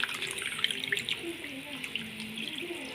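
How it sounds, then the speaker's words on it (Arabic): A cup of water mixed with a large spoonful of cornstarch is poured into caramelized sugar for a toffee cake, giving a steady, bubbling hiss throughout. "هنزل بقى بالايه بكوبايه الميه وعليها معلقه كبيره من النشا"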